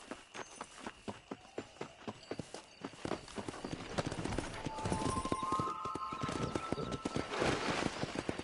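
Horse hooves clip-clop at a steady walking rhythm while riding in Red Dead Redemption, then quicken into a busier canter with a whinny and outdoor ambience building around them.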